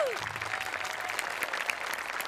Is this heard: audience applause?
yes